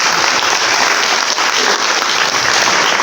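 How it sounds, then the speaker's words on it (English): A large audience at a Ugandan tourism welcome event applauds after a performance: dense, sustained clapping that fills the space evenly for several seconds without breaks. "So I would just like to give everyone another round of applause for this amazing performance."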